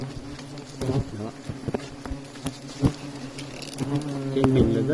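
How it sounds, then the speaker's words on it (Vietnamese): Forest wasps swarm around their nest, a dense steady buzz of many insects with individual wings zipping close past, faint voices in the background. "Trên mình là rất nhiều ong nhá các bạn nhá."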